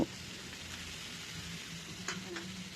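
Spices sizzling gently in hot oil as they are stirred before tuna goes in, a quiet steady frying hiss with a few brief scrapes.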